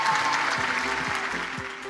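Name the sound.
audience applause at a gala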